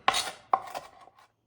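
Fresh parsley being chopped on a board, two quick knife strokes followed by a softer trailing cut, close and quiet with nothing else audible.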